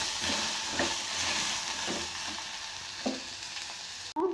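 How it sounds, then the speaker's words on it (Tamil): Green turkey berries sauté in hot oil with onion for a Tamil sundakkai kuzhambu, a steady close sizzle with a few scraping stirs and a sharp clatter just before the end. "பச்சை சுண்டைக்காய் நல்லா எண்ணெயில் வதங்கணும்."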